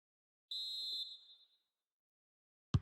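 A referee's whistle blows for half-time in the video game FIFA 21, one clear shrill blast about half a second long that fades out, followed by a short sharp knock near the end.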